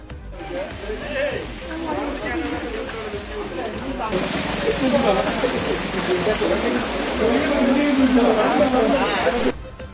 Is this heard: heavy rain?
yes